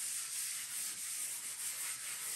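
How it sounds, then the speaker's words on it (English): Worn sanding sponge lightly rubbed over painted furniture, a soft, steady scratchy hiss with gentle rhythmic swells, close and quiet, no voices. "I'm going to take one of my old worn out sanding sponges, and I'm just going to very lightly run it over"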